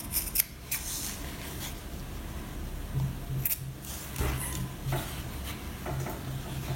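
Close, quiet snips of scissors notch the seam allowance of a sewn zipped fabric pouch, a series of short cuts at irregular intervals with no talking.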